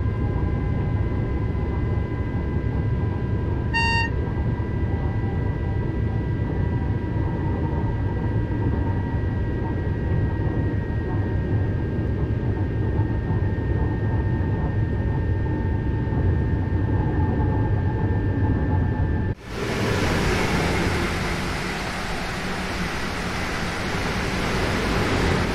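High-speed TGV in Train Sim World 2 running on the LGV Marseille–Avignon line: a steady, loud broadband rumble with a sustained whine, a brief tonal chime early on, then a sudden jump to a brighter, hissier roar near the end.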